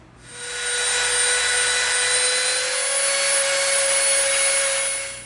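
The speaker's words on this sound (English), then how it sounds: "we are going to round these edges off with the Dremel" A Dremel rotary tool rounds off the edges of EVA foam with a high, steady whine that starts after a brief pause, runs loud and constant with slight load dips, then winds down at the end.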